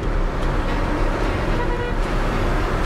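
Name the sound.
vehicle overtaking on a bend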